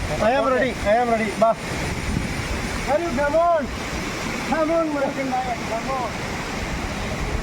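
Peringala waterfall roars as a steady, broad rush of falling water close by, with voices talking over it throughout.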